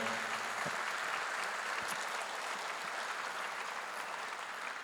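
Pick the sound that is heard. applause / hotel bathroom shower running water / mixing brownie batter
applause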